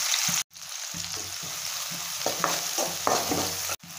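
Onions and a large green chili sautéing with a little salt in a hot pan, a steady sizzle broken by repeated scraping stirs and spoon knocks, close and fairly loud with no talking.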